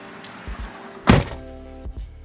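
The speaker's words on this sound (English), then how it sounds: "Here, I'll close the door." The door of a 2018 Toyota RAV4 swings shut with a single solid, close thunk, followed by a quiet steady hum inside the car and a soft bump near the end.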